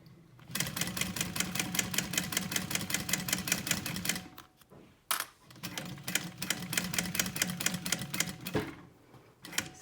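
A hand-cranked sewing machine stitches around the edges of a fabric purse with fast, even mechanical clicking, pausing briefly midway before resuming at the same rhythm.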